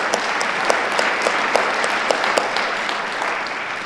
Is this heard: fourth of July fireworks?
no